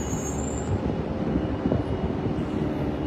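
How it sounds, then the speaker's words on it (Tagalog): A firefighting helicopter working over a huge residential blaze in Tondo, Manila gives a steady, dense rotor and engine roar that fills the scene continuously without letup. "Tuloy-tuloy pa rin yung helicopter sa pagbumba"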